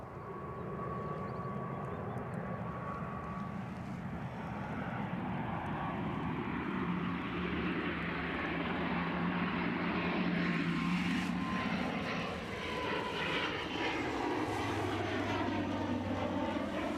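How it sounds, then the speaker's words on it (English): ATR turboprop airliner inbound at Edinburgh Airport, a steady propeller drone with a whining tone that swells as it nears and passes, heard from a distance without talk. "that inbound ATR is where the camera's going next. So if you like turboprops, you'll not be disappointed."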